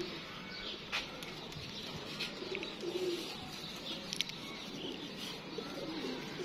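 Pigeons cooing in a pigeon keeper's loft in Gujranwala, soft repeated low coos and a few chirps over steady ambient noise, with occasional wing movement.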